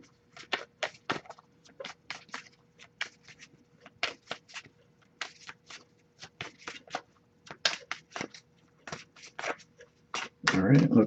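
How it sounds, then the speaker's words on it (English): Tarot cards are shuffled repeatedly in the hands. Close, crisp riffling and flicking comes in quick irregular bursts with short pauses between them, and a voice speaks briefly at the end. "I'll give it a couple more shuffles though"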